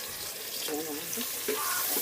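Onions and chilies fry with salt and spice in a pan, giving a steady sizzling hiss throughout, with a few brief voices or clatter breaking in over the frying.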